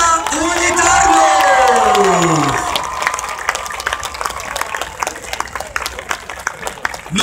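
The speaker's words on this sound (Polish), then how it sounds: "Wielkie brawa, drużyna Unitarno!" Crowd applause and cheering for the Unia Tarnów speedway team celebrating a won match against Unia Leszno, with an announcer's voice over the start, then steady clapping and scattered shouts carrying on loud and close.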